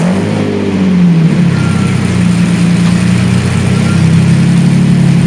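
A 5.7-liter, 492-horsepower V12 car engine with a 5-speed manual transmission roars loud and close, its pitch climbing briefly at the start and then holding a steady, dense drone.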